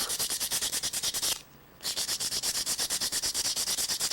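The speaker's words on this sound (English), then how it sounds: "I like to have just at least a tiny bit of a radius on that edge. Get any burrs out of it." Rapid, steady rasping strokes of a file or abrasive deburring the edge of an SKS rifle bolt, close and loud, pausing briefly about a third of the way through before the rhythmic scraping resumes.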